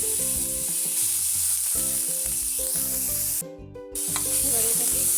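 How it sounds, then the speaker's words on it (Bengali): A garlic and green chili paste fries in a pan for a Bengali pumpkin leaves mash, giving a steady close sizzle. Scraping stir sounds and a faint melodic background tone run through it, and the sound drops briefly in the middle. "দিয়ে দিলাম রসুন আর কাঁচা লঙ্কা বাটাটা।"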